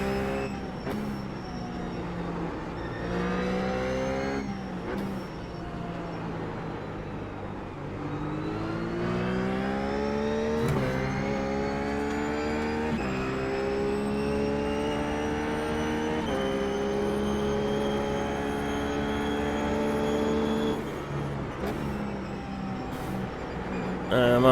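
A RUF race car's engine drones and revs steadily on the Zandvoort circuit in the iRacing simulator, pitch climbing and dropping through gear changes with brief shift cuts, loud and continuous throughout.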